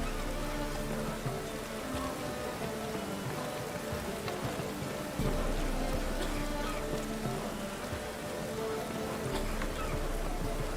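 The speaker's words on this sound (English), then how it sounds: "Lots of fuss over lots of rain." Steady rain from The Witcher 3 video game falls and patters on surfaces, a continuous dense hiss with scattered drops and no voices.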